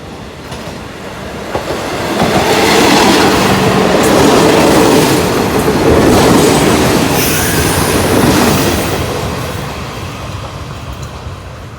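Special express train 43 from Bangkok to Surat Thani on the southern line rolls past near Ban Pong station, a loud building rumble with rail clatter and wheel squeal that swells, holds, then slowly recedes.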